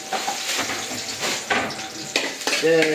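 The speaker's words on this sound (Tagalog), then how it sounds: "Lulutuin mo na yung bawang sa mantika" Garlic frying in oil for goat kaldereta, a close crackling sizzle with bursts of stirring and scraping, plus a voice briefly in the background near the end.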